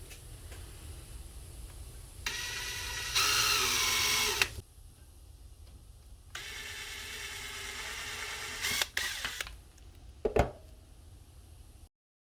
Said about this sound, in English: So once you finish drilling the holes into your letters